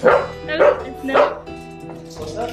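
Several dogs bark in rapid bursts close by in a home, with yips and whimpers mixed in, while a person greets them excitedly over the barking.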